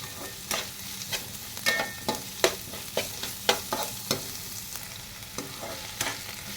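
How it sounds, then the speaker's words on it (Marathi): Finely chopped onion fries in a pan with a steady low sizzle, broken by regular scraping stirs that land roughly every half second, close and moderately loud. "कांदा भाजत आलाय."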